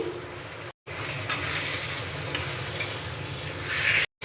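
Spice paste with ginger paste, onion paste, chopped tomato and salt being stirred as it fries in a pan for ghugni, a steady close sizzle with scraping stir strokes, briefly cut out twice.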